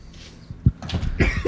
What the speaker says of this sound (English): He's coughing up a lung.